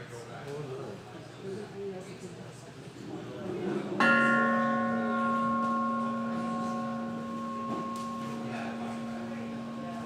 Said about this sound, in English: now we will ring the bell to begin our service